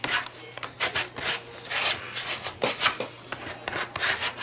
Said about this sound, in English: I'm just gonna kind of scrape it, make sure it's all down flat.